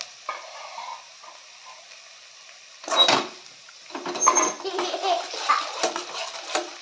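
Spice paste of ginger and green chili being fried and stirred in a pan, with quiet sizzling and a few louder bursts of scraping and stirring.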